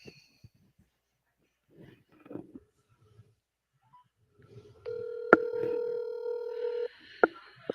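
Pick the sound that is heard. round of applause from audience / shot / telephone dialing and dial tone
telephone dialing and dial tone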